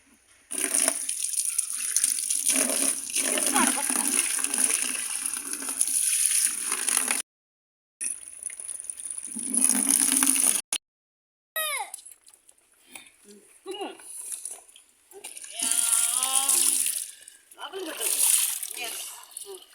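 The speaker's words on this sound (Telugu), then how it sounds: "మళ్ళీ ఫ్రెష్ వాటర్ పడదాం" Water splashes and pours steadily, broken by a few brief pauses, with voices speaking intermittently over it.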